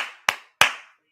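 Two sharp, close hand claps about a third of a second apart, each ringing out briefly in a quiet room during a live reaction to a Buccaneers versus Panthers football game.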